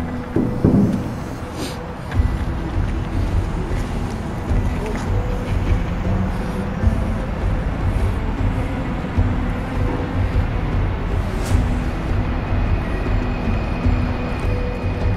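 Rail traffic at a freight yard with tracks about 100 metres away gives a steady low rumble and hum that continues throughout. A voice speaks over the noise.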